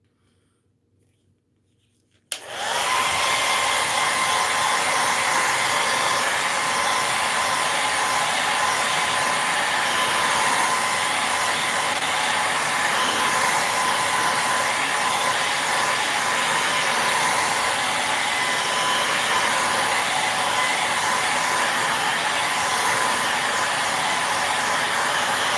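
A hair dryer switches on after a short silence and runs as a steady, loud whooshing roar for over twenty seconds while drying paint on a stenciling project.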